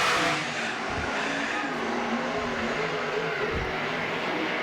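Sprint cars race at Baypark Speedway under lights, their engines roaring loud and continuous as they work hard into the laps, a dense wall of motor noise with surging revs and no voices.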